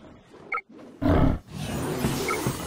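A wolf roar from the Wolfteam online shooter, a loud growling burst from about one second that tails into a sustained rough roar, with a brief sharper sound just before it.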